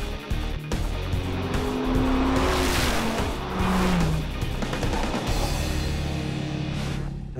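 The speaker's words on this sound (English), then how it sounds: "It's an old school, huge American engine with rear wheel drive and a stick shift." A Dodge Viper supercar with a huge old-school American engine, rear-wheel drive and stick shift roars loudly as it drives, its engine note rising and falling through gear changes with a brief tire squeal, close and sustained.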